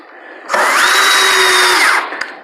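A power drill drives a screw into a wooden sawhorse in one sustained burst of about one and a half seconds, its whine rising and then winding down, loud and close, with no talking.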